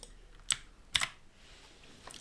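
Brief clicks of keys on a computer keyboard while programming C# code, two distinct close taps followed by a faint third, quiet and isolated.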